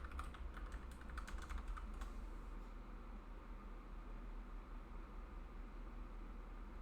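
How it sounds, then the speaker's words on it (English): Someone types a password on a computer keyboard during a Jellyfin setup: a quick run of soft, faint key clicks over the first two seconds, then only a steady low hum. "then it'll ask me to type in my password."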